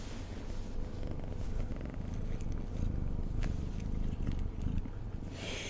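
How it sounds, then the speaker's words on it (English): A kitten purring loudly and continuously, a close, deep, rumbling purr held steady throughout with no talking. "Did you hear his purrs?"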